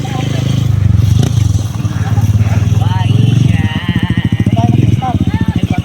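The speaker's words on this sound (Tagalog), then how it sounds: "Meron ding karera ng motor, ayan oh." Motorcycles racing at a local event, their engines buzzing and revving up close with rhythmic pulsing bursts, under excited talk from people nearby.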